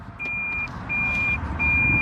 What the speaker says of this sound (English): Whoa, there's a car.